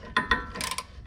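A long caliper bolt on a Suzuki Kizashi rear brake is turned out by hand, making a few short, close metallic ratcheting clicks and scrapes in quick irregular succession, with no talk.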